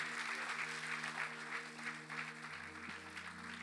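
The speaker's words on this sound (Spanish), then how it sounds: "Aplaude al Señor" A church congregation claps for the Lord, soft, distant applause over sustained keyboard chords, a low, continuous patter under the music.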